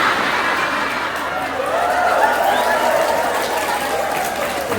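Audience applause at an outdoor religious sermon gathering in Tumbang Manggu, Central Kalimantan, a dense continuous wash of clapping mixed with crowd chatter and some laughter, loud and sustained throughout.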